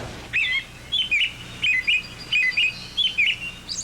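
Chickadees call in spring with a repeated series of short, bright chirps, about six spaced bursts in under four seconds, fairly close over quiet background noise.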